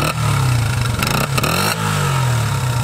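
A Honda XR80 dirt bike engine kicks into life and revs hard several times, a loud, close, buzzing snarl that rises and falls.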